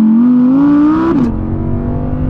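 The engine of a new rear-wheel-drive Audi R8 sports car revs loud and close, its pitch climbing steadily toward about 8,500 RPM. It then drops sharply into a lower, rougher drone.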